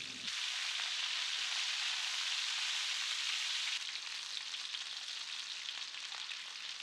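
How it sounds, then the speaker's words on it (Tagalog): Chicken pieces frying in a quarter cup of cooking oil in a 12-inch shallow casserole, a steady, even sizzle that holds close and continuous throughout with no talking. "Add the chicken and cook it until brown on both sides."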